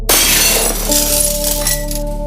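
Many mirrors shatter at once as a horror story sound effect, a sudden loud crash of breaking glass followed by tinkling, ringing shards that fade over a low droning tone.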